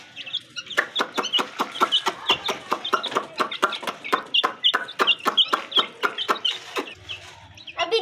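Desi chickens cluck and squawk in a fast, steady run of sharp calls, close and loud, with a few short pauses near the end.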